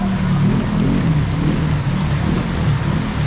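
Steady, dense rain hiss with a low rumbling undertone during flooding in Olongapo, Philippines, continuous and fairly loud throughout.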